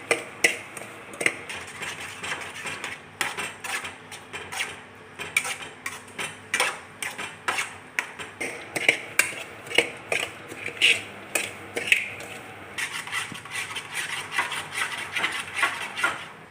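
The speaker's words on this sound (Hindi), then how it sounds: "हमने कहा पहले रवा ही भून करके रख लेते हैं" Semolina stirred and roasted in a pan over low heat, with repeated irregular scraping and clinking of a spoon against the metal pan, steady and close throughout.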